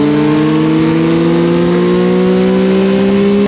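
A motorcycle engine on a long road ride, its loud, steady drone holding close and climbing slowly in pitch throughout, with no one talking.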